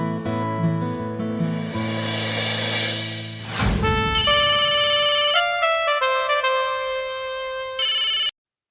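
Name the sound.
telephone ringing during a phone call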